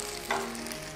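Tomato sauce stirred in a pan for spaghetti, with a brief scraping burst of stirring over a steady low sizzle, close and fairly quiet, no talking.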